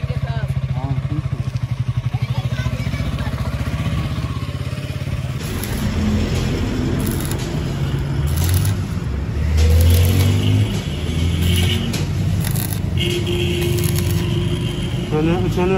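A motorcycle engine idles and rumbles nearby after being repaired, with clattering mechanical noises and short revs partway through, under faint background voices.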